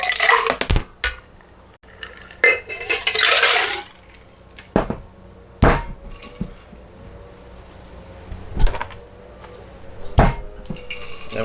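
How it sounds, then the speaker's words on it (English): Ice clatters into a metal cocktail shaker for a coconut martini with coconut cream and coconut water, a series of sharp, separate clinks and knocks spread out over several seconds, close and fairly loud. "We add our ice."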